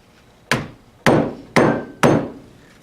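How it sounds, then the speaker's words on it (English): Four hard hammer blows strike a Scrub Daddy sponge that has been warmed to 40 °C with a hairdryer, each impact sharp and loud with a short decaying ring, spaced about half a second apart. "Let's pound it with a hammer."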